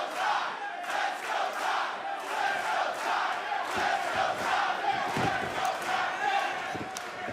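Raucous NXT wrestling crowd at a TakeOver event, a dense steady roar of shouting and chanting voices with rhythmic pulses, loud and sustained throughout.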